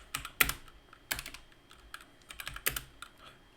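Typing on a computer keyboard, with quiet, close, irregular clusters of key clicks and a few sharper taps, alone with no talking.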